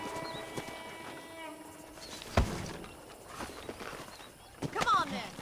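A horse's hooves clip-clop at a walk on a ranch in Red Dead Redemption, soft uneven hoof steps close by, with a sharp thud midway and people talking over it.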